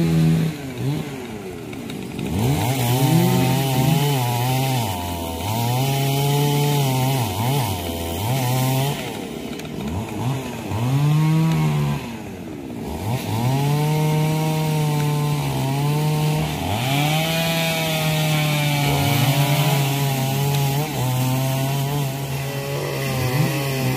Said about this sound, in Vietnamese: Đây là hai cây me anh Tùng và anh Dân đang cưa